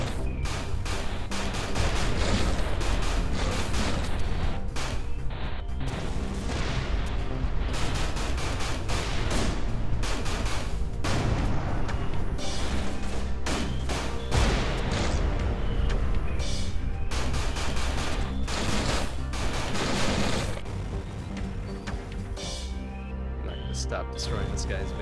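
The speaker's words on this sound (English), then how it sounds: "Explodey stuff going on here." Dense, continuous explosions and weapon fire in the space shooter Everspace 2, loud overlapping booms and bursts rolling on without pause, with someone talking over the chaos.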